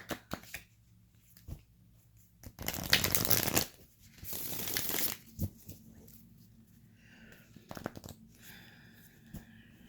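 Playing cards being shuffled and handled, a dense riffle burst followed by a longer flurry, then scattered soft taps and rustles, close and fairly quiet with no talk.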